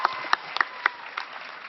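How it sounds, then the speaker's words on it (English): Sparse applause at a Vampire Diaries Comic Con panel, a handful of distinct claps spaced irregularly over a quiet, thin background. "That deserves a round of applause."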